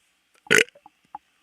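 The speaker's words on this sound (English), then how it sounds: "That was a good burp." A single short, loud burp, followed by a few small faint mouth sounds and clicks in otherwise quiet surroundings.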